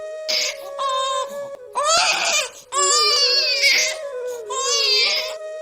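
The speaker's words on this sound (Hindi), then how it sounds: "अरे ये बच्चे की रोने की आवाज कहाँ से आ रही है?" Cartoon baby crying in a Hindi animated moral story: repeated loud, high wailing sobs in several bursts, close and alone, with no other voices over it.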